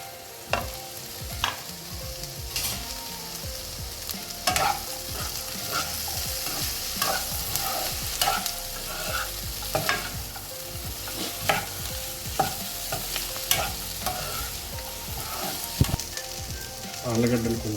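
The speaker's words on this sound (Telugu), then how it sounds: "ఇప్పుడు మనం ఆలుగడ్డలను వేసి వేయాలి." Potatoes and corn fry in a pan for a vermicelli kichidi, giving a constant close sizzle broken by repeated scraping stirs and soft clinks of a spoon at a loose, regular pace throughout.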